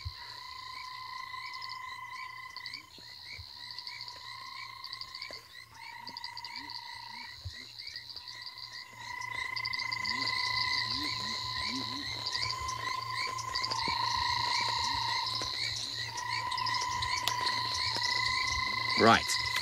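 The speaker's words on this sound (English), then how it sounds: "there is an absolute cacophony of frog sounds" Dense nighttime chorus of several frog species calling at once, steady trills and croaks layered with continuous cricket chirping on a safari drive at sunrise, the whole chorus swelling louder partway through with no talking.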